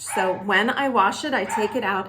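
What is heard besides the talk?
dog barking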